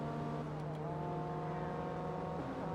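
Car engine and exhaust in the racing game Forza Motorsport 2, a steady, loud droning hum at constant revs with a faint shift in pitch, continuous throughout.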